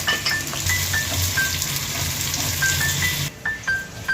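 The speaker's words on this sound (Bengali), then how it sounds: "প্রথমেই আমরা দিয়ে দেব পেঁয়াজটা" Onions dropped into hot oil in a pan for a mutton liver kosha, with a steady loud sizzle and crackle running throughout, a few light clinks of utensils, and no talk.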